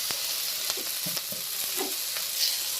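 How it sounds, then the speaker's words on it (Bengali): Spoon stirring fenugreek greens curry with potato and eggplant in a pan just uncovered, with a quiet sizzle and a few soft scraping strokes, faint and close. "এবার ঢাকাটা খুলে ভালো করে একটু নাড়িয়ে দেব"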